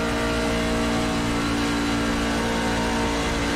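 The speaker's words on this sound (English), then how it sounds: "You can definitely hear the engine starting to bog a bit now" Race truck engine in the iRacing video game at Las Vegas, bogging through a corner: a steady, loud mid-pitched drone with a constant tonal whine and no speech over it.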